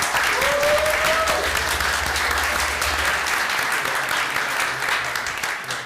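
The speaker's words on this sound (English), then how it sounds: "So please, round of applause." Continuous, close applause from an audience at a school district board meeting runs throughout, evenly dense and loud, tapering slightly at the end.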